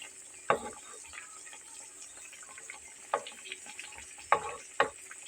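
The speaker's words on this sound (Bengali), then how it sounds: "চুলার আঁচটাকে লো ফ্লেমে রেখেই কিন্তু ভেজে নিতে হবে।" Flour snacks frying on a low flame make a soft, steady bubbling hiss, broken by a few sharp scrapes or taps of a utensil against the pan.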